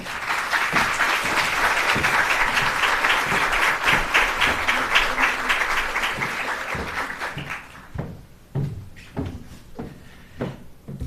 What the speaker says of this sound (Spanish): les pido un aplauso para la doctora